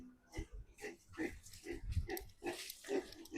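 A sick pig at a small Filipino farm grunts repeatedly in an even rhythm, close and fairly quiet, with light voices in the background.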